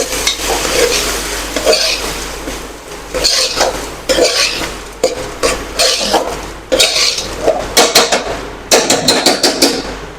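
A spoon stirs rice and food in a metal pot, producing loud repeated scraping and clanking strokes in irregular bursts with short pauses between them, close up and with no voices.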